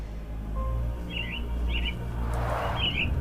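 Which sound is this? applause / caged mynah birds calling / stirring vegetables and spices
caged mynah birds calling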